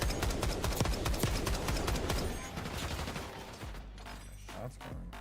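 Rapid bursts of gunfire from a Call of Duty match crackle in dense, repeated volleys for several seconds, then thin out into scattered shots over a low rumble near the end.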